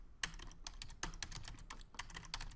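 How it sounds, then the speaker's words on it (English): Rapid typing on a computer keyboard, a quick run of close, crisp key clicks with uneven rhythm and a few harder strokes, with no talk. "So then I would go in here and type in list confirm,"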